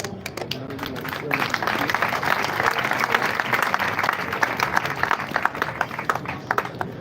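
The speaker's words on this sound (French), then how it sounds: "J'aimerais que vous applaudissiez cette femme." Applause from mourners at a funeral, a sustained burst of clapping that rises after a moment and holds steady throughout, with faint voices mixed in underneath.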